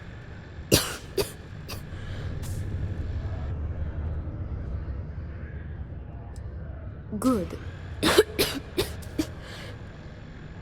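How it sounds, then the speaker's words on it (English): A character in the video game Starfield coughs harshly in two bouts of several rapid coughs, separated by a low steady hum; a brief spoken word comes between them. "As you can probably tell, I've got this bad cough."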